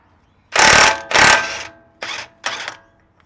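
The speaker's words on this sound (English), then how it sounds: "because we've got an impact that doesn't like to take no for an answer, not too bad to get off" Four loud, harsh bursts of an impact wrench hammering and spinning off the axle nut on a Land Cruiser 200, two longer blasts followed by two shorter ones, close up with silence between.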